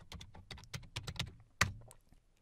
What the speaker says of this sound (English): I could type cd Brien